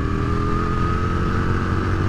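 An Aprilia RSV Mille R motorcycle engine drones steadily on a road ride, a loud, close, even V-twin hum with wind rush and no break over two seconds.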